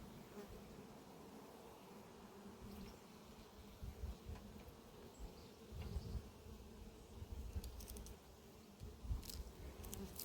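Honey bees buzzing steadily around an apiary hive, a dense, continuous drone with a few louder passes close by, heard alone without talk.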